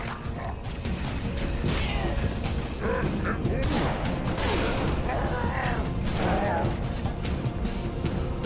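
An elevator mechanism moving in the Halo Reach video game at Sword Base, heard as a continuous loud grinding, clanking mechanical rumble with creaks and metallic rattles throughout.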